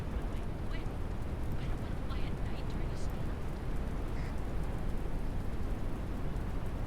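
Steady rain falls in the video game Airport Renovator, a constant dense hiss of droplets filling the scene, with faint voices murmuring underneath.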